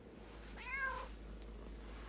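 A house cat gives a single short, rising-and-falling meow, fairly clear against a quiet room with a low steady hum.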